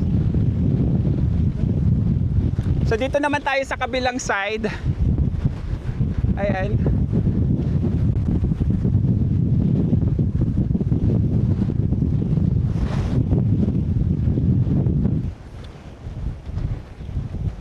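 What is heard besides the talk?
strong wind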